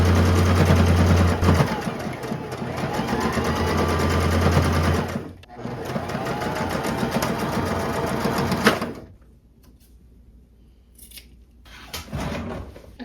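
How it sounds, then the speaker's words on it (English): A sewing machine stitches along a folded fabric strap, whirring loudly and steadily for several seconds with a brief pause, then stopping and leaving a quieter room with a few small clicks. "I'm just going to sew right along this side here"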